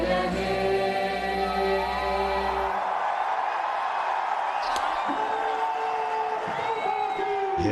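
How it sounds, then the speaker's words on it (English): Spectators cheering in a cricket stadium in Mohali at an India vs Australia T20 international, a loud sustained crowd roar with whoops rising as the national anthem's music ends, continuing steadily under a commentator's voice. "A loud cheer from the spectators here in Mohali."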